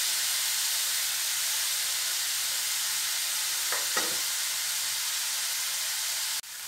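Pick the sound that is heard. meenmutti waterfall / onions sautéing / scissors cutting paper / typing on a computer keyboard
onions sautéing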